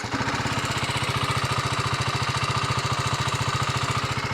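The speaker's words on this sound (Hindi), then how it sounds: "So now let's start this motorcycle." A 2025 TVS Apache RR310 motorcycle engine starts and idles with a steady, rapid putter, a constant mechanical throb running evenly throughout with no other sounds.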